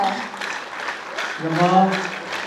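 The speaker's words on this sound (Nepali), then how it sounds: "सबैजनाले जोरदार ताली बजाइदिइ राख्नुहुनेछ।" Applause from an audience at a speech event: steady, dense clapping throughout, with a voice speaking over it partway through.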